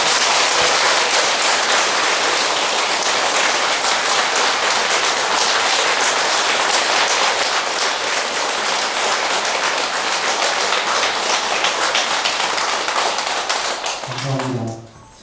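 A dense, loud wave of audience applause fills a Buddhist temple lecture hall for a monk, sustained steadily for many seconds before fading out abruptly.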